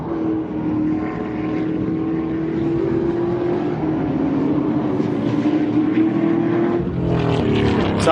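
Race cars lapping the circuit during Round 4, Day 2 of the Hi-Tec Oils Super Series, a steady, loud engine roar that holds throughout and shifts in pitch and intensity near the end.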